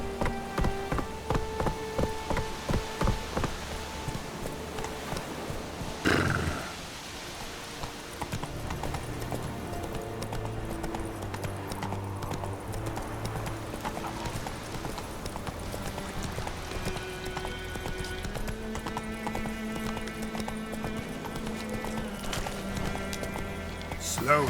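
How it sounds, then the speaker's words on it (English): Roach the horse galloping in The Witcher 3 video game, rapid rhythmic hoofbeats on a hard path with an occasional whinny, set against game music and a brief burst of noise. "Run, Roach."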